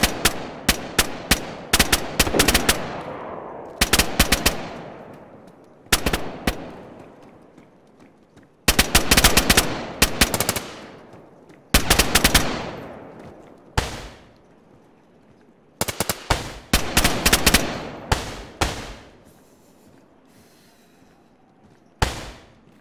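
Gunfire in the survival game DayZ, loud bursts of automatic fire and single shots arriving in several clusters separated by short pauses, sharp and close, with no talk over them.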